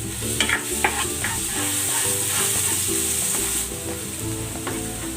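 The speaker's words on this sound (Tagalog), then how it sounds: "Using the same pan, igisa na natin itong bawang." Garlic sautés in a pan with a steady, close sizzle and frying hiss, while a utensil stirs and scrapes against the pan with a few sharp clicks near the start.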